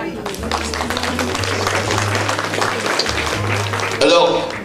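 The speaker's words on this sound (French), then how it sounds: "Vous pouvez l'applaudir." Audience applause at a gala evening, a steady wash of clapping hands lasting several seconds, with a brief louder burst near the end and a low hum underneath.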